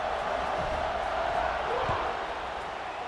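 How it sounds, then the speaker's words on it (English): Stadium crowd in EA Sports College Football 26 buzzing after a score, a dense steady roar of distant voices filling the whole stretch with low murmuring texture. "this crowd is buzzing after that last score"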